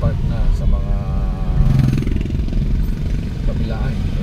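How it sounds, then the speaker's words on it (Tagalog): Motorcycles and cars pass along a busy Marikina city road at night after Typhoon Enteng, a continuous loud engine drone with a buzzing motorcycle rising and fading, while someone talks over the traffic. "Marami lang motor, marami lang sasakyan."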